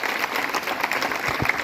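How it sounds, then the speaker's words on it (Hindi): Students at a college Independence Day celebration applaud, a short burst of dense crowd clapping at moderate distance, with no talk over it. "जोरदार तालियों के साथ बच्चों,"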